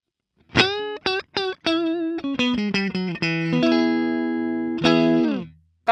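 A Stratocaster with single-coil pickups plays clean, unaffected single notes, each with a sharp attack and quick decay, ending on a few longer sustained notes.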